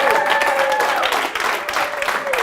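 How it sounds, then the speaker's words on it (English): A comedy club crowd applauds at a members' stage night, dense clapping mixed with a few whoops and a raised voice or two cutting through near the start. "Take my applause."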